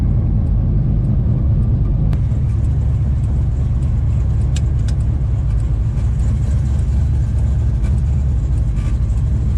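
A 1968 Dodge Charger with a Hemi V8 runs loud and close, a constant deep, heavy rumble that holds steady for the whole stretch with only slight swells and no voices over it.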